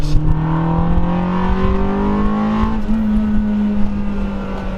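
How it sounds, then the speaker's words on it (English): A 400 hp Ford Focus RS engine holds a loud, steady, gradually rising rev during launch control, heard close from inside the car. "He's revving."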